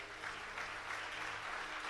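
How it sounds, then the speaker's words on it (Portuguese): A church congregation at a Sunday celebration service applauds in a continuous, even roar of many hands, fairly distant and with no distinct voices. "Pode aplaudir Jesus?"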